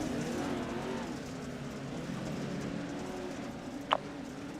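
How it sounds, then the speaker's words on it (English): A pace truck drives around a dirt race track during a Pro 2 Lite series race refire, its engine a steady, moderately distant drone throughout, with a brief sharp sound near the end. "looks like the pace truck's going for some airtime there."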